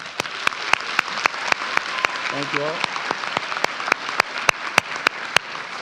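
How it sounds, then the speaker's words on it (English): A graduation audience applauds school staff with a steady patter of clapping throughout, scattered sharp individual claps standing out, while a speaker briefly talks over it. "can we please give a round of applause to our Capitol staff, leadership that made this all possible today?"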